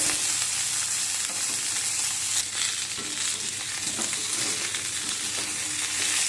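Eggplant for baingan bharta frying slowly in a pan, a dense, even sizzle that holds steady and loud throughout, with faint scraping movement underneath and no voices.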